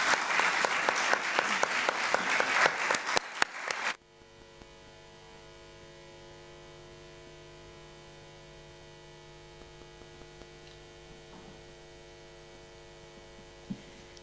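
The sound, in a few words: audience applause for three women at a poetry book launch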